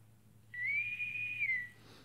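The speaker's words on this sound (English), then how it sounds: "We're going to use the intercom whistle." An 'intercom whistle' text message notification tone set on an Android 6 phone: a single clean, sustained whistle of about one second that rises and then falls, heard alone over a quiet background.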